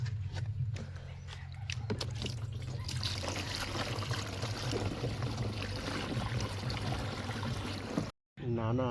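Water pouring steadily from a tank into a container outdoors on a cold day, a continuous close rush and trickle that runs for several seconds before cutting off abruptly, with faint clopping and intermittent background sounds.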